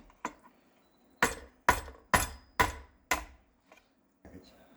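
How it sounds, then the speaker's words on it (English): Hammer blows knocking a garbage disposal loose during installation, five sharp, evenly spaced metallic strikes close up, with a few lighter taps before and after. "a hammer was part of the installation process."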